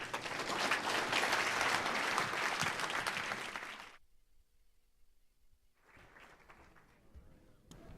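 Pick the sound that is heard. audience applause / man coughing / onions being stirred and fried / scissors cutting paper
audience applause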